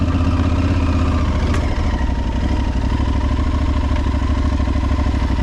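An Aprilia Tuareg adventure motorcycle ridden through snow on stock tires, its engine droning steadily and loudly close by with a rough, clattering low rumble throughout.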